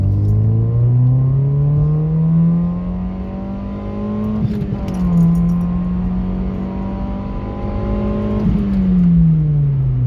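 A modified Toyota Yaris accelerating hard on a straight road, its engine climbing steadily in pitch through gears, with two brief shift dips, a loud close droning rev from inside the car.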